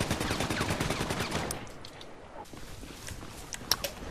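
Rapid machine gun fire in Grand Theft Auto V, a dense rattling burst for the first second and a half, then fading to scattered faint pops and clatter.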